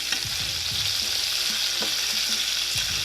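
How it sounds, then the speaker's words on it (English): About six small bacon slices frying in a pan on a stovetop, a loud continuous close sizzle with low thumps and scrapes of stirring throughout, no talking. "I normally cook my bacon in the oven, y'all. But I figured I'm only making like 6 little slices. I can just cook it on the stove."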